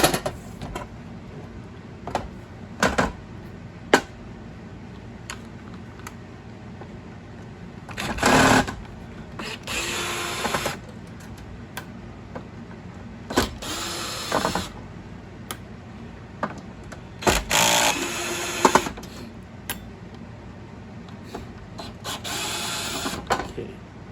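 Short bursts of a power drill whirring in spurts as it removes screws from a fencing reel, close by, separated by pauses with small clicks and handling noises, no talking.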